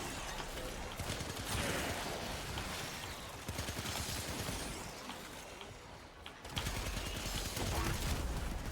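Video game gunfire from shooting enemies, rapid dense bursts of automatic shots firing almost continuously with brief pauses, loud and close.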